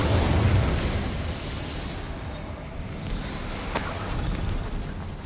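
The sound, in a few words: Incendium fire spell blast in Hogwarts Legacy video game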